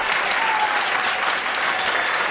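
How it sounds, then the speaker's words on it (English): Loud, steady applause from the audience at an 8th grade graduation, a dense wash of many hands clapping continuously with no break. "Can we have another round of applause for them?"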